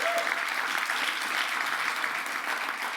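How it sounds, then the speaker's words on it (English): Audience applause at a community conference kickoff, steady and dense throughout, a broad wash of many hands clapping with no speech over it. "Give them a round of applause."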